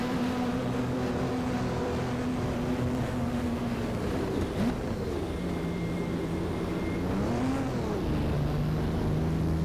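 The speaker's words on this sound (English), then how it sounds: "12 cylinders, 65 degrees V angle, producing 641 horsepower." A 641-horsepower 65-degree V12 race car engine in the racing game GTR2 at Mid-Ohio, droning steadily close up with a smooth tone that dips and rises through gear shifts.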